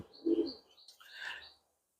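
High flyer pigeons give soft cooing and chirping calls, one low burst near the start and then a thinner, higher call, heard close and fairly quiet with no talking.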